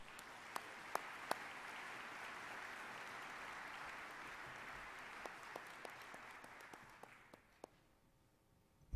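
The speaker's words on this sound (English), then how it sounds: "Let's give another round of applause to all of our awardees." An audience at an awards ceremony applauds the awardees, a fairly quiet, even spread of clapping with a few sharper nearby claps. It fades toward the end and a brief silence follows.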